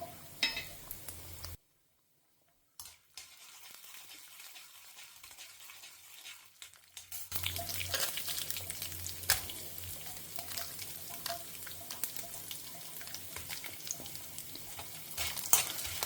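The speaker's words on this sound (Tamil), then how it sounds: "வத்தமிளகா, கருவேப்பிலை எல்லாத்தையுமே நல்லா வறுத்துட்டு பொடி பண்ணி எடுத்துன்னு வரேன்" Dried red chillies and curry leaves dry roasting in a pan for spice powder, a steady close sizzle with scraping stirs and occasional clinks, after a short silent gap early on, no talk.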